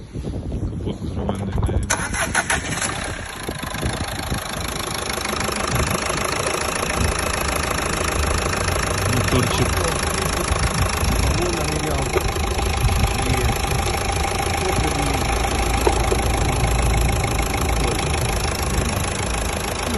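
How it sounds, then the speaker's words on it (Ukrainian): Used Renault Laguna or VW Passat B8 engine running at idle during a pre-purchase inspection, a steady close mechanical hum after a brief start, continuing evenly for the full stretch. "Давайте зараз послухаємо, як працює моторчик."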